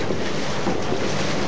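Water gushing steadily out of the black outlet pipe of a ram pump, a close, loud, rushing broadband hiss with no talking.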